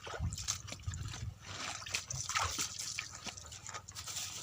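A plastic food box being rinsed with running water at an outdoor cooking spot, with steady splashing, dripping and trickling close by and no talk over it.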